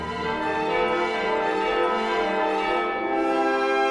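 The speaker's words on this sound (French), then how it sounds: "les cloches tubulaires entrent dans la danse et rappellent les cloches d'église" Tubular bells in an orchestral performance of Holst's The Planets ring out loud and sustained, with rich overlapping tones that resemble church bells and no voices.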